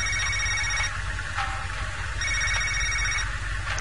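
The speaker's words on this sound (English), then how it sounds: "The phone chimes again." A phone rings in a narrative video game, repeating chime bursts with a steady electronic tone over a low ambient game background, no voices.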